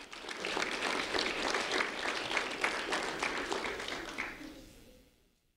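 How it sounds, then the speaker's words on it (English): An audience claps for a seventh-grade student being honored at a sheriff's office recognition event, a lively burst of applause that holds for several seconds and then fades out. "a round of applause for Addie"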